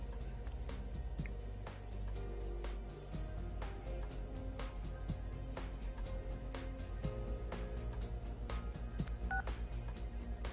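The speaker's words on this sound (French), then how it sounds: "Et les portables dans le jeu font pipi pipi pipi hein." A mobile phone in the Persona 4 video game rings with a steady electronic beeping pattern, repeated short tones over a continuous hum of game background sound, moderate and unbroken for about ten seconds with no talking.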